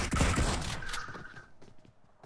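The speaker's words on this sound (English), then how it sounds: "I heard like 20 DBS shots" A rapid burst of DBS shotgun blasts in the PUBG Mobile battle game, loud and dense at first, then thinning into fainter scattered shots.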